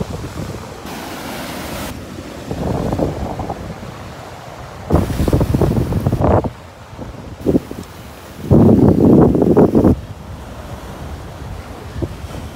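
Wind and surf on the South China Sea just after a typhoon: a constant roar of wind buffeting the microphone, with heavier gusts and crashing waves surging in several bursts.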